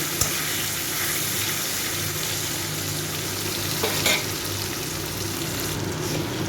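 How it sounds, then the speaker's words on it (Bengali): Potato and tomato fry in a pan with cumin, giving a steady, close sizzle with a couple of brief clinks and stirring scrapes, and no speech. "আলু আর টমেটোটাকে একটু ভেজে নেব"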